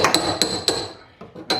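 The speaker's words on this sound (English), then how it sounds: "you see I just literally just tap this edge up" Hammer tapping the edge of a Mercedes W108/W109 car floor pan, four or five sharp metallic strikes in quick, slightly uneven succession, close and ringing.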